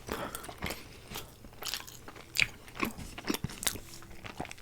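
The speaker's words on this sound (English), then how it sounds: "you gotta try to chew the bread, but not too hard" Someone bites and chews homemade chocolate bread close to the mic, with soft crunches and moist mouth sounds in an uneven rhythm and a few sharper crackling bites, no talking.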